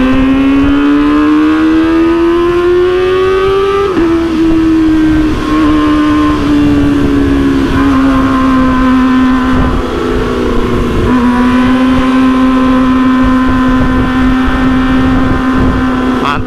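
A car engine revs hard and loud close by, its pitch climbing, dropping back and surging again in a sustained roaring rasp that carries through the whole stretch with no talking over it.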